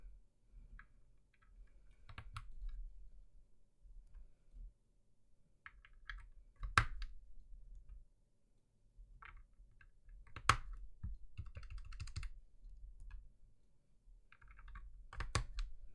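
Keystrokes on an FL-CMMK MK870 mechanical keyboard with PCB-mount switches, typed in uneven bursts with scattered louder clacks, close and fairly quiet, no voices.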